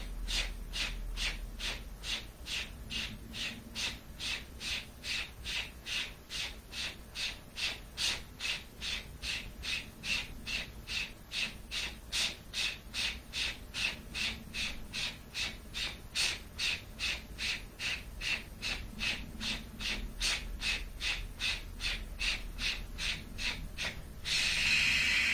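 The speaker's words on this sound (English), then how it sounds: "Pull the tongue back, inhale, and exhale with a" Rapid, rhythmic breath of fire breathing exercise: steady forceful exhales through the mouth with the tongue pulled back, about two per second for the whole stretch, close and even, with no talking.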